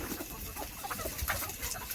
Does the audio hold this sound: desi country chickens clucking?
yes